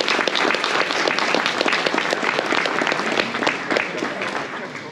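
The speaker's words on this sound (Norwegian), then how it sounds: "Applaus til Jostein Sunde AS." Steady, lively applause from a crowd at a prize-giving at a trout festival in Jølster, Norway, continues throughout, a dense wash of many hands clapping at once.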